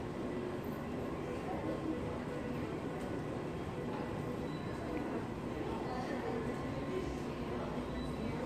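Steady rumble and rattle of a moving tram, heard from inside on an evening ride through Toronto, a continuous low roar filling the whole stretch with faint background murmur.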